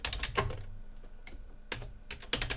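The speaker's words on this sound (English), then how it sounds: "And then I type in here," Typing on a computer keyboard: clusters of quick, close clicking keystrokes in short bursts separated by brief pauses, crisp and fairly loud with no talk over them.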